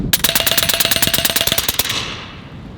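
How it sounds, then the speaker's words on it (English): The Western Sidewinder S, a compact full-auto 30 caliber rifle, fires a rapid twelve-round burst at a steel gong, giving a fast, evenly spaced string of loud, ringing cracks that stops abruptly and then fades. "let's switch this thing to automatic and put a group on that Gong"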